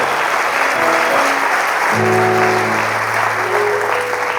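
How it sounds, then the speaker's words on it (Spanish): A church congregation applauds during a Spanish-language sermon on forgiveness and reconciliation, dense sustained clapping with sung or held tones over it, loud and continuous throughout. "Demos un aplauso al Señor así con todo"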